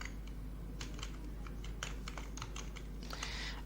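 Steady, close clicking of keys typed on a computer keyboard while coding, a quick irregular patter over a low constant hum, with no talking.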